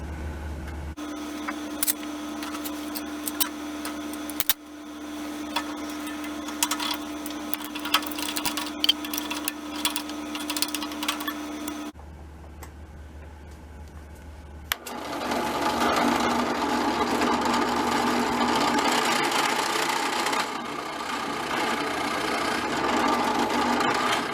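Steady mechanical whirring of a drill with a larger bit running, a brief stop and a gap, then a louder, rougher whir as it bites into an M1912 Norwegian Krag carbine part.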